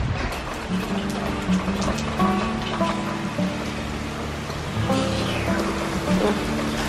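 Heavy rain pours onto a balcony with plants, a steady dense hiss with scattered drips and splashes close by, while someone speaks briefly over it.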